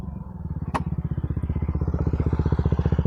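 A BombMoto B2 electric dirt bike accelerates close by, making a loud pulsing drone whose rapid beats quicken steadily as it gathers speed, with a sharp clack near the start.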